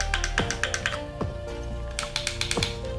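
Buttons on an Xbox One controller click rapidly and crisply close up, a busy run of sharp taps with a few heavier presses mixed in, and no talking over them.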